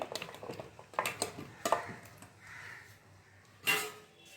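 Chunks of bottle gourd dropped into a pressure cooker for a lentil dish, giving a few soft thuds and clatters against the metal, with a louder knock near the end, close by in a quiet kitchen.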